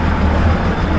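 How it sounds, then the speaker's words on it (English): A truck on a road in Uganda rumbles past close by, a loud, heavy low drone of engine and tyres that fills the whole short moment without speech. "Another truck goes past."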